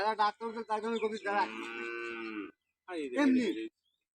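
A cow moos in a drawn-out, nasal call with a wavering pitch, close and fairly quiet, followed by a second shorter low moo after a brief pause.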